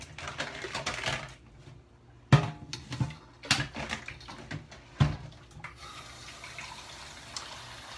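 Filtered water being poured in a home kitchen, arriving in several short, splashy gushes separated by quiet gaps, then a softer trickle near the end.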